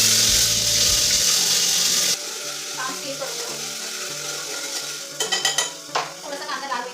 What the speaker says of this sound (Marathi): थोडंसं तेल गरम झालं की त्याला फोडणी देऊया.